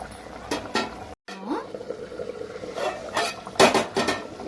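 A spoon scrapes and clinks against a pot while boneless mutton curry is stirred, several short metallic strokes at close range with a faint simmering bed underneath.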